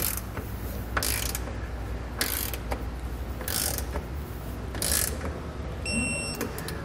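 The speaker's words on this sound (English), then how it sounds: "you come back with a torque wrench and torque all your hardware down to the specified amount in the instructions" A ratcheting torque wrench tightens bolts while nerf bars are installed on a 2020 Chevrolet, giving repeated bursts of rapid clicking in an uneven rhythm, close and fairly loud.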